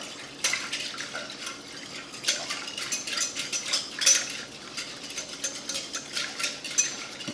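Garlic paste and dry mustard are mixed in a bowl for a Hollywood Brown Derby Cobb salad dressing. A utensil clinks and scrapes against the bowl in quick irregular strokes, close and fairly soft, with no talking.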